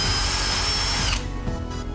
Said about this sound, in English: I then drill a hole on the centre of that line